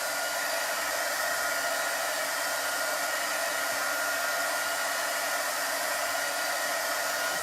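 A hair dryer blows steadily for several seconds, drying chalk paste on a box, a constant airy roar held close and loud with no talk.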